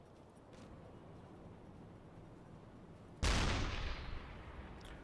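A single loud gun blast in the submarine game UBoat erupts after a quiet stretch of ambient rumble, with a booming report that decays over about a second.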